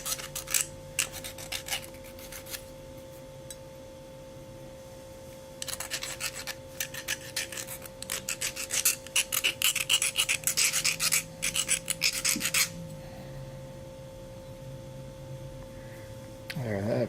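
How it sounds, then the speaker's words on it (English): Sterling silver ring having a rough edge sanded down, with bursts of close, scratchy rubbing strokes, a short pass first and then a longer, louder run of rapid back-and-forth sanding, separated by quiet pauses. "Feel a little bit of a rough edge there, so just sand it down."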